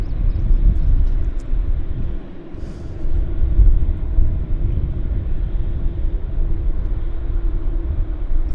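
An Air Canada airliner taxiing at Vancouver Airport makes a steady, fairly loud low rumble and engine drone that holds continuously with only slight swells.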